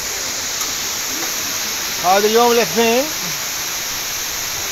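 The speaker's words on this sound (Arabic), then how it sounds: "شلال اسكيتو اوغلو اكبر شلالات ريزا" Ayder waterfall in Rize, Turkey, gives a steady, even rush of falling water that fills the whole clip, with someone speaking briefly over it midway.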